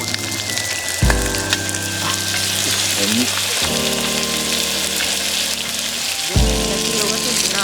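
An A5 Sendai beef hamburger patty sizzles steadily in a pan at a campsite, a loud, close, continuous frying hiss with a few dull knocks of the pan.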